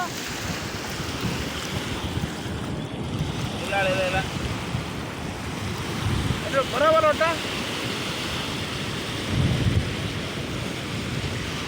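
Bay of Bengal waves roll in where the Nagavali river meets the sea, a steady wash of surf under heavy wind noise on the microphone, with brief faint voices in the background.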